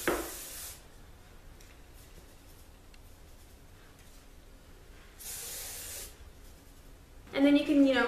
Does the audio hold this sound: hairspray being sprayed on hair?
yes